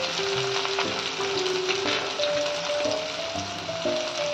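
Onion, garlic and tomato fry in hot oil with a continuous close sizzle and spattering crackle, occasional stirring scrapes, and no voices.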